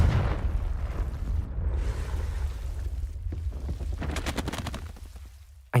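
A Confringo fire spell in Hogwarts Legacy blasts out as a loud explosive boom, then rolls into a long crackling, rumbling tail with scattered sharp bursts before cutting off abruptly.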